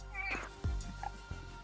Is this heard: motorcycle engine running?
no